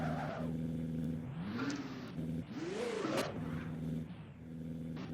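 Cars in the Roblox game Driving Empire rev and skid during a drag race, with engine notes rising and falling and tyre squeal sweeping through in a few loud passes.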